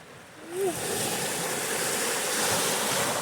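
Steady roaring surf washes in and out on a rocky beach in Acadia, Maine, continuously, loud and close, with a brief faint squeak near the beginning.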